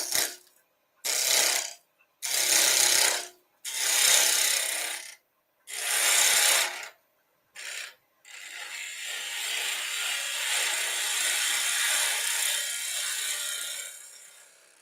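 Bur oak on a wood lathe is cut in loud, rough bursts separated by short pauses, followed by one long continuous scraping pass near the tool.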